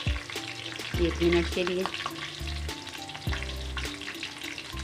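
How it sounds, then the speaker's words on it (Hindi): Okra sizzles and spits in a hot pan with green chilies for a bhindi aloo sabzi, with steady frying crackle, spatula scrapes and stirring clatter up close, and a voice speaks briefly. "साथ ही इसमें डाल देंगे हम अपनी भिंडी। इसको थोड़ा सा फ्राई करना है"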